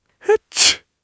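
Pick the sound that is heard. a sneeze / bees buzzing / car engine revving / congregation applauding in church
a sneeze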